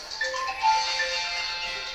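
Mobile phone ringtone playing a faint, thin electronic melody of a few short notes over a soft background hiss, at some distance.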